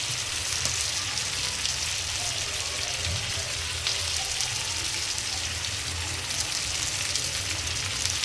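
Masala frying in a pan for an Andhra-style brinjal curry, a steady close sizzle and crackle running evenly throughout, with no talking.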